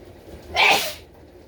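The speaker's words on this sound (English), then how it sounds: "Okay, I'm gonna sneeze." A single loud, close sneeze bursts out in about half a second, standing alone against a quiet room with no talking around it.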